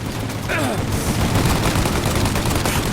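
Enemy gunfire in Mafia: Definitive Edition: a loud, sustained fusillade of rapid shots throughout, with a brief whistling sweep early on and no pause in the shooting.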